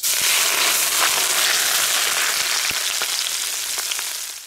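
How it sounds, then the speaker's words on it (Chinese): Hot oil is poured over chili, garlic, scallion and sesame, setting off a loud, dense hiss of sizzling that holds steady and then slowly fades, with a few crackles popping through. "浇上热油"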